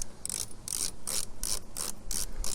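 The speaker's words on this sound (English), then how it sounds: "try and turn the screw from the other side" A ratchet or screwdriver turns a screw on an RV roof vent cover, giving about eight quick, evenly spaced clicking bursts, close up and fairly quiet, with no talking.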